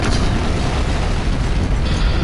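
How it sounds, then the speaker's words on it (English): In the Danganronpa video game, a thrown Monokuma explodes, producing a loud, dense, roaring rumble that fills the whole moment without letup and carries no speech. "Like he threw him and the thing backed away, but it froze with the explosion."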